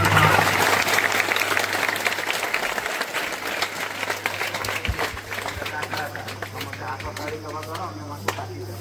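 Audience at a students union annual conference clapping for a doctor, a dense crowd applause that thins into scattered claps, with a voice speaking over it.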